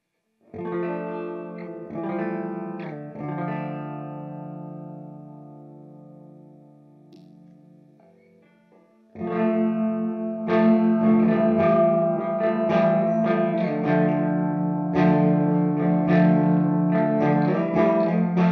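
An electric guitar plays through a Death by Audio Space Bender modulation pedal, a sustained wavering chord fading out, then a fuller strummed passage with swirling, chorus-like movement.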